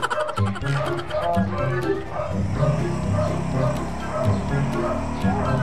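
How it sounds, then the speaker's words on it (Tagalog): Several dogs bark and yip close by in an excited chorus, with voices talking over the noise. "Yung mga aso yan."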